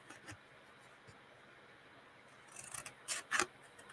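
Scissors snipping through a piece of paper while making a small gift box insert: a quiet stretch, then several short, crisp cuts close by toward the end.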